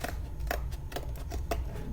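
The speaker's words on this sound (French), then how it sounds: "je fais attention avec mes ciseaux pour pas me faire mal" Several quick, close scissor snips cut paper around the ears of a craft cutout for a flower pot, the crisp cuts spaced irregularly over a low background hum.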